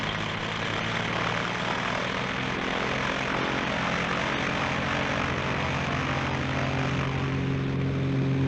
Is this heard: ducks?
no